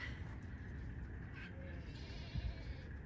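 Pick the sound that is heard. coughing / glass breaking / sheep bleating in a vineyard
sheep bleating in a vineyard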